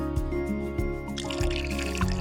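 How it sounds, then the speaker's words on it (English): Water trickling and dripping as jugs are filled, a close steady pouring sound with small repeated drips and splashes running under the whole short stretch. "I have to fill the water jugs."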